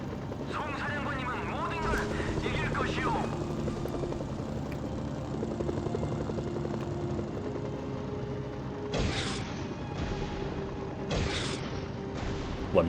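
Helicopter in the game Mercenaries: Playground of Destruction, a steady rotor drone running throughout under game sounds and bursts of whooshing action near the end.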